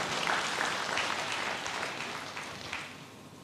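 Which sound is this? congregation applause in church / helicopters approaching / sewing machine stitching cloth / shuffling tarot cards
congregation applause in church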